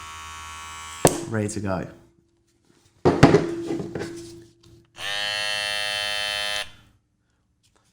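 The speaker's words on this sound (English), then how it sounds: "Listen, sounds like an elite clipper" A barber's electric hair clipper runs in a short, steady, loud buzzing burst after a person speaks.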